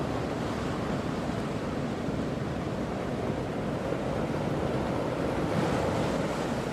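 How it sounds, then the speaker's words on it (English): Steady roaring ocean surf fills a song recording, a dense continuous wash of breaking waves that sounds almost like wind, loud and unbroken with no voices. "Is that the ocean? Because it sounds like wind."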